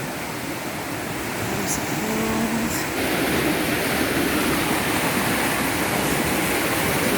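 Steady broadband rush of water falling over a small waterfall, loud and close, continuing without a break; a faint voice is briefly audible underneath.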